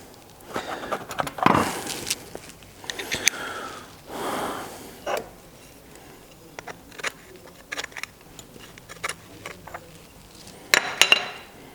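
Small metal scrapes and clinks sound as rubbish is scraped out of the float bowl of a motorcycle carburettor, with scattered brief ticks and a few louder scratchy strokes, close and fairly quiet.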